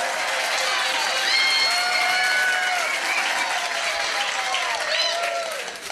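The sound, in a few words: round of applause for a quiz winner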